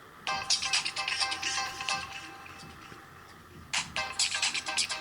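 Voxy ringtone on an HTC Trophy phone plays a bright, busy electronic melody in two phrases with a short quieter gap between them, heard close with no talking.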